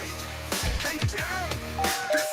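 Doorbell ringing repeatedly in a series of chiming tones, moderately loud, with some voice-like sounds mixed in between the rings.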